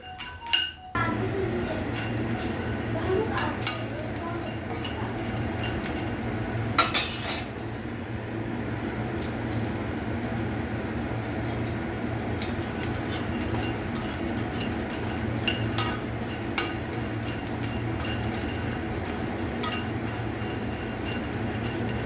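Makhana (fox nuts) roast in a pan while being stirred, giving a steady bed of scraping and light clinking that runs for about twenty seconds, with a few sharper knocks near the start and no talking.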